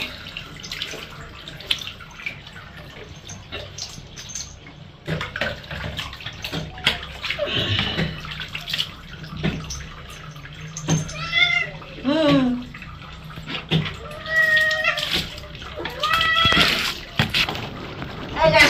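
A cat being bathed in a tub with running, slightly warm water, meowing repeatedly in short rising cries over splashing and tap flow, with people talking nearby throughout.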